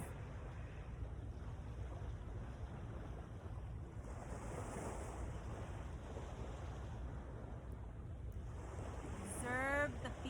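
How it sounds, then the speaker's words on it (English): Ocean waves washing onto a Naples beach, a soft continuous surf with gentle swells, heard faintly at a distance, with a brief voice near the end. "Observe the sound of the waves."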